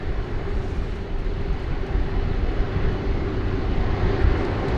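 A passenger plane at Sydney Airport roars steadily through its takeoff run, a broad, continuous engine rumble that swells slightly toward the end.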